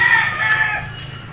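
A game fowl rooster crows once, close and loud: a short, strained, hoarse call that fades out near the end, with no talking.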